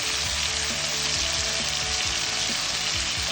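Hilsa fish frying in a pan, a loud, dense, continuous sizzle and crackle heard close up with no voices.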